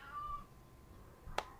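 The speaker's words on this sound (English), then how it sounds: "please excuse my cat who is not being so nice by meowing in the background" A pet cat gives a single short meow in the background of a quiet indoor room.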